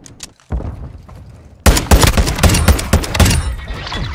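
Modern Warfare II video game gunfire: an isolated shot, then a dense, loud burst of rapid automatic fire with overlapping booms that fades slightly toward the end.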